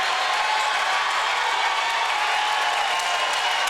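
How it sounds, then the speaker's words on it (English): Home crowd at a high school boys' basketball game in a gym, a continuous broadband wash of cheering and noise filling the room at a steady, fairly loud level without any distinct voices. "Lorain crowd trying to get the team up a little bit"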